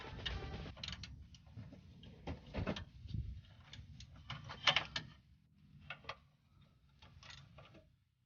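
Ratchet tightening bolts on a Cadillac Escalade during crankshaft position sensor replacement, close metallic clicking in short bursts with pauses between, fairly quiet.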